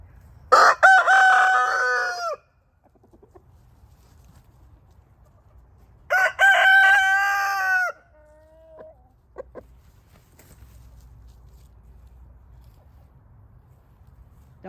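Roosters crow twice, loud and near, each call drawn out over a couple of seconds, while free ranging in the rain; a steady patter of rain and faint clucks fill the gaps between crows.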